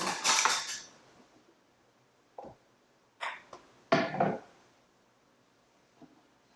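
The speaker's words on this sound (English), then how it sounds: "Butchering this poor watermelon." A kitchen knife working through a watermelon gives a few sharp clacks and thuds of cutting at irregular intervals, separated by quiet gaps.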